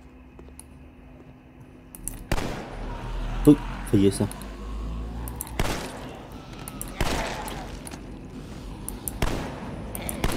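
Sharp gunshots from the video game The Walking Dead: Survival Instinct ring out at irregular intervals, some in quick bursts, while someone speaks briefly between them.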